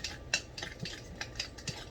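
Fork scraping and clinking around a bowl as a mixture is stirred, a few light, irregular taps and scrapes, close and quiet, with no talk.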